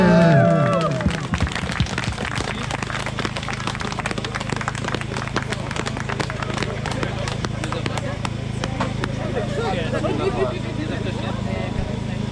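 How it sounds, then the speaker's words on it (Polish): Applause and clapping from a crowd at a motorcycle family picnic marking the end of the riding season, steady and fairly loud for about twelve seconds after a brief spoken line, with a low hum underneath. "Wielkie brawa, Johnny!"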